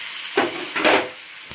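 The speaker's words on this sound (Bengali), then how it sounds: "এই মশলাটা তো আগে ভেজে নিয়েছিলাম এরপর এটা জল দেবো" Water poured into a hot pan of pre-fried spice mixture for a jackfruit curry, giving two short bursts of loud steamy hiss and sizzle close by, the second longer, over a low background hiss.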